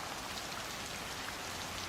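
Steady rain falls at night, a soft even hiss of drops on surfaces with no other sounds, constant and moderately distant throughout.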